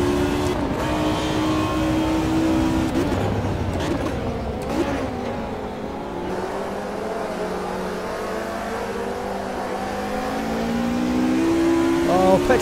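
A Mercedes DTM race car in the Automobilista 2 video game, lapping Laguna Seca, revs hard with its engine note rising and falling through gear changes and braking, loud and continuous, with a voice talking over it.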